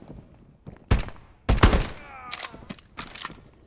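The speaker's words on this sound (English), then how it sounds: "they really do make reloading noises, the scouts" Scouts reloading weapons in the VR shooter Exfilzone VR: sharp metallic clacks and bursts in several separate hits, with a rattling mechanical stretch in the middle, loud and close.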